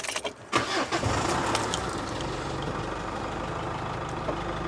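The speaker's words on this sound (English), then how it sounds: "Let's start the cab up and see if it leaks." A London black cab's engine cranks and fires, then settles into a steady, close diesel idle that runs on alone without anyone speaking.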